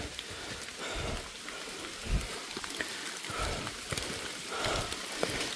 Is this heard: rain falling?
yes